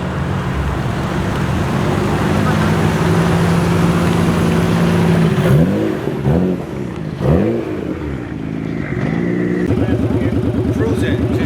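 A Honda NSX sports car cruises past at a car meet on a New York City street, its engine note rising and falling with revs amid steady roadway noise, while people chat nearby.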